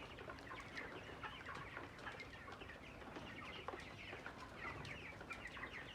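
A crowd of healthy chickens clucks continuously inside a poultry farm shed, a dense, fairly quiet chatter of overlapping clucks and short calls with no talking.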